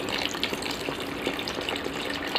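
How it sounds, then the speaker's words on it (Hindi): Water poured into a pot of pork sour curry while it cooks, a steady, close splashing gush that runs for a couple of seconds with no talking. "तो गाइस शायद यहाँ पर और थोड़ा पानी देना चाहिए मुझे।"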